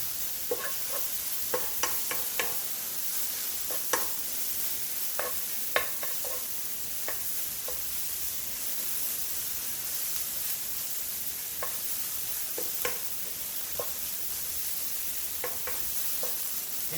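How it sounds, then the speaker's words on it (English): Mushroom filling sautéing in a pan as liquid cooks off, a soft continuous sizzle with scattered light clicks and scrapes from constant stirring, close and fairly quiet, no voices. "Make sure you stir it constantly because you don't want it to burn."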